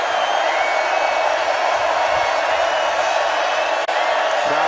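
A college football stadium crowd roars during Oklahoma State at Baylor in 2012: a loud, sustained cheering wash from thousands of fans, steady throughout with no break.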